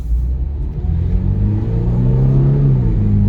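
A 2023 Toyota GR86 Premium with an automatic transmission pulls away from a stop in sport mode. Its engine gives a steady, loud, close rumble that rises gradually in pitch as it accelerates, with no talking.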